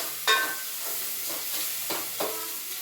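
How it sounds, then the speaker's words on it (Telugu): Onion, ginger paste and green chillies frying in a pan for chicken curry, a soft steady sizzle broken by a few brief stirring scrapes, no talk. "ఉల్లిగడ్డ అల్లం పేస్ట్ పచ్చిమిర్చి మొత్తం అన్నీ మంచి గోలాలి"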